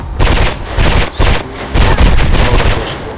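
Close, loud bursts of rapid gunfire in Mirror's Edge, several volleys of repeated shots separated by brief pauses.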